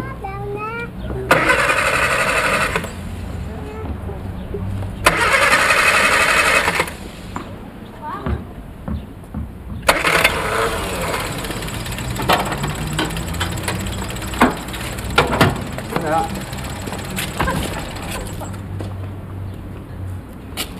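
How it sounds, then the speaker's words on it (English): A 1970 motor car engine turns over with two long whirring starter cranks before catching and running in a rough, uneven idle, close by, with people talking over it. "It's a marvellous invention when you think about it, the motor car."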